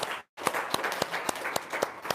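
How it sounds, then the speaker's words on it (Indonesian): An audience claps after a speaker's announcement at a gathering, a short burst of sharp, evenly spaced claps that starts right after a brief silence, fairly close. "Tepuk tangan dong, luar biasa."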